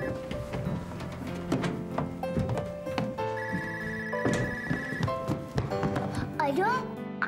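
A telephone rings in a home, its repeated bell tones cutting through as children and adults talk over it nearby.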